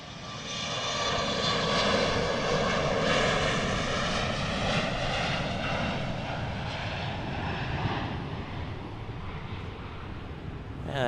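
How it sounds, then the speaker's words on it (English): An Alaska Embraer E175 jet airliner at Portland International Airport makes a loud, steady engine roar that holds through the whole passage and eases slightly toward the end, with no voices. "On the road with the Embraer E175 from Alaska."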